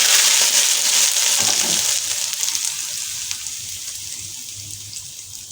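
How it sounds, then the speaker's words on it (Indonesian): Hot cooking oil poured over freshly ground chili sambal for pecel lele sambal bajak, a loud hiss and crackling sizzle that starts strong and gradually fades as it settles. "tuangkan minyak goreng panasnya ke sambal yang udah kita ulek tadi"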